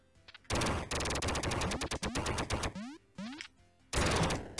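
The skill gun in Duck Game fires in rapid electronic bursts, loud stuttering streams broken by short gaps and rising zipping sweeps, with a final burst after a brief pause.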